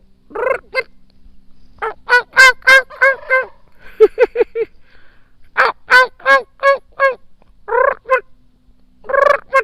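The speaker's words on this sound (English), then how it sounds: "the big gobbler's walking all around back there in the woods" A wild turkey gobbler gobbles loudly and repeatedly in the woods, its rattling calls coming in quick bursts separated by short pauses, close by with a quiet background.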